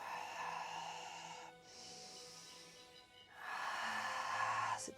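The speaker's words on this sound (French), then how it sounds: "Et on respire à fond." Deep, slow breaths drawn in and let out during a Pilates exercise for lower back pain, two long rushing exhalations separated by a short pause, close and fairly soft.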